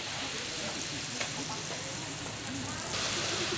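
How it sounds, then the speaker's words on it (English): Steady, dense sizzling of butter on a hot stone at a street food stall in Sapa, Vietnam, continuous crackle and hiss throughout, with faint background voices. "they spread a little bit of butter first and make it sizzle"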